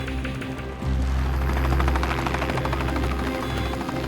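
An air ambulance helicopter airlifting a young patient to St George's: a loud, steady, rapid rotor chop pulses throughout with a deep engine drone beneath, and no voices.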